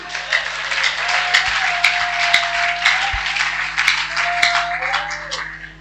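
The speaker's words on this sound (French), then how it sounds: "Acclame pour ton cœur qui fait mal." An audience at a church spiritual-combat gathering bursts into sustained applause, a dense, steady wash of many hands clapping throughout, with a voice and sharp organ or music accents sounding over it.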